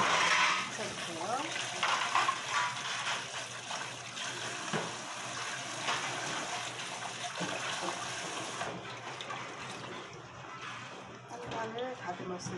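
Running tap water rinses green onions, a continuous splashing hiss nearby, while someone speaks over it.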